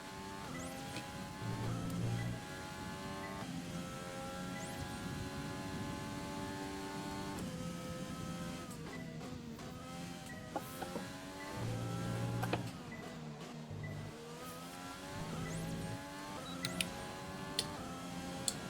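Formula 1 car from F1 2020 at the Austria circuit, engine note rising through gears with harmonic bands climbing and dropping at shifts, steady and fairly loud with brief low thumps.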